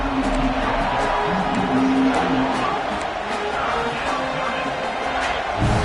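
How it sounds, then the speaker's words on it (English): Stadium crowd roar in a college football video game, Ohio State at Texas, a steady dense wash of noise holding level throughout with faint thuds and swells, no commentary voice clearly standing out. "This crowd is trying to inspire this defense to make a big red zone stop."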